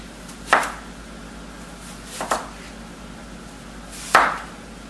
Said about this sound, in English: I'm going to cut the squash into very thin